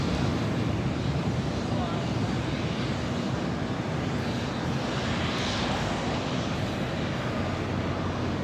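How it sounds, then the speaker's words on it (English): Jet engines roar steadily as an Air Canada Airbus A321 takes off for Toronto, a dense continuous rush heard from some distance, with voices murmuring underneath. "This is Air Canada 786 taking off to Toronto on the A321."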